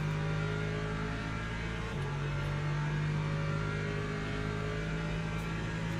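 Race car engine in the Le Mans Ultimate sim racing game at Daytona, droning steadily and evenly at a moderate level while the driver short shifts in a slipstream, with no talking.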